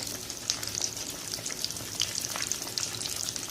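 Potato tikki wrapped in samosa pastry strips deep-frying in hot oil: a steady, close crackling sizzle with scattered sharp pops, with no talking.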